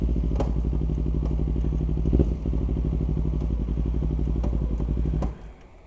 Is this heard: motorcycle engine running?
yes